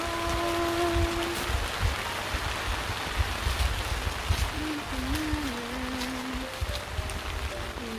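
Steady rain pours over a cornfield during a harvest in Davao Oriental, a dense constant hiss with scattered drops and a faint melodic tone drifting through in places.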